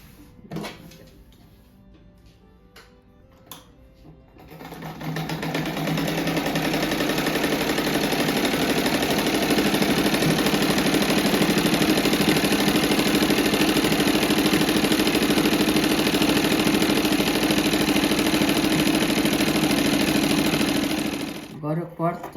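A sewing machine stitching around the edge of an oval rug, with a steady, loud, continuous mechanical whir for about sixteen seconds, preceded by a few faint clicks and handling sounds and ending with brief clunks as it stops.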